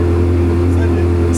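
A Ferrari at a dealership runs close by, a loud, steady engine drone with a strong low hum that barely changes, under a brief burst of nearby talk.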